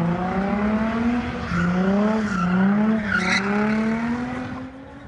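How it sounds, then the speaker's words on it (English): Cars skidding and doing donuts in the middle of a street at a late-night street takeover, a long sustained tire squeal rising and falling over a revving engine, loud and close. "cars doing donuts in the middle of the street"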